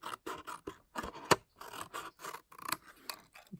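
Scissors snip straight across the paper of a bath bomb box in a quick, irregular series of close, crisp cuts and rasps, with short pauses between strokes and no talking.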